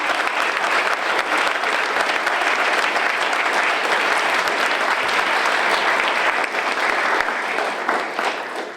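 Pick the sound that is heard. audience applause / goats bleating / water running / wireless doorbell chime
audience applause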